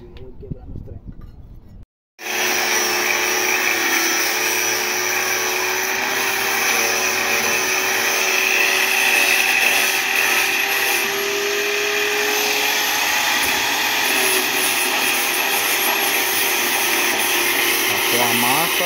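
After a brief pause, a power sander starts up and runs with a steady, loud grinding whine, sanding a surface before painting, continuing unbroken for a long stretch.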